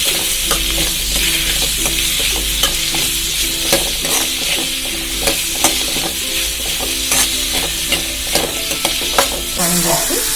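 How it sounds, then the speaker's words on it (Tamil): Chopped onions and tomatoes fry in a spoonful of oil in a pan, a constant close sizzle broken by frequent scraping clicks of a spoon stirring through the mixture, loud and steady with no talking. "வெங்காயம் தக்காளி நல்லா வணங்கணும்."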